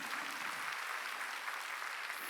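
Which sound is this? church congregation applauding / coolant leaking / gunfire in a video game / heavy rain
church congregation applauding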